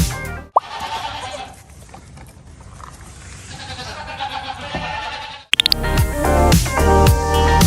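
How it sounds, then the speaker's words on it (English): Goat bleats, loud and close, one long wavering cry followed by a sharp jump to another bleat with bright harmonic tones, separated by a brief silence and a click, no talking. "It's a goat."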